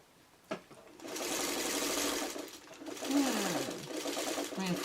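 A sewing machine stitches Dresden plate porthole pieces in one continuous run of fast, even whirring close by. A voice speaks over it and a short knock comes just before the stitching starts.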